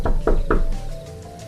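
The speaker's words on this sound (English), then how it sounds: "I turned around when I heard a knock at the window of the house." Three sharp knocks on a house window land in quick, even succession and are loud and close, then fade into a low hum in a quiet room.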